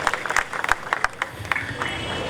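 A crowd at a cinema event at a PVR in Andheri applauds for Rohit Shetty with scattered, uneven claps. The clapping is fairly near over a low murmur and lasts a couple of seconds.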